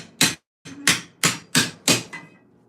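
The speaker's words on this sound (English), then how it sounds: "this is my dishing hammer" A dishing hammer strikes armour metal, shaping the back of a helmet over a stump. Six sharp, ringing blows land close by in a steady rhythm, with one short pause after the first strike.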